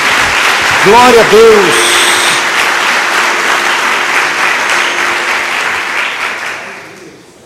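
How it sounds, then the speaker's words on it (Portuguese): A church congregation breaks into loud, sustained applause that fills the room and fades out toward the end, with a voice speaking over the clapping. "Dê uma salva de palmas a Jesus."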